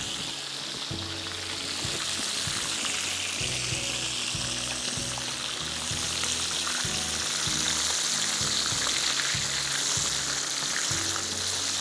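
Sweet and spicy sriracha chicken wings frying in hot oil, a steady crackling sizzle with bubbling pops, close and continuous for the whole stretch with no talking.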